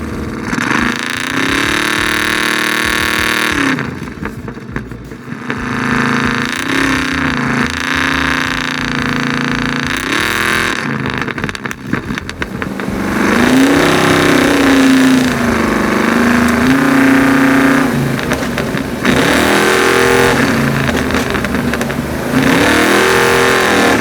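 An 830HP Ford F100 luxury pre-runner truck's engine revs loudly and close up, rising and falling repeatedly through gear changes with sustained roaring pulls and brief dips.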